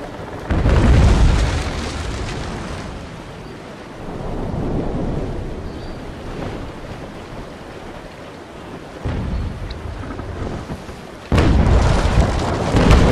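Cannon shots fire between brigs on the high seas in Naval Action, heard as several heavy booming bursts with a rumbling tail between them.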